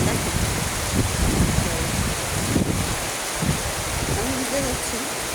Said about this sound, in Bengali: খুব করে বৃষ্টি শুরু হয়ে গেল